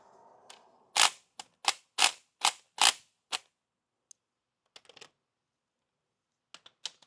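Clicking torque wrench tightening rocker shaft bolts to 22 foot-pounds on an ISX Cummins engine: a rapid series of six or seven sharp, loud clicks, then scattered fainter ticks and taps as the tool is repositioned.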